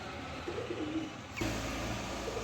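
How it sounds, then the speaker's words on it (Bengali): A male Mili pigeon, a large racing pigeon, gives soft, low coos a few times, faint against a steady background hum. "এখানে এক পিস মিলি কবুতর আছে"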